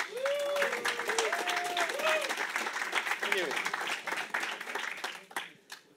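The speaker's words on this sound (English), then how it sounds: "Please give a round of applause." An audience at a tech conference talk gives a moderately distant round of applause, a steady wash of clapping with a few voices calling out, trailing off at the end.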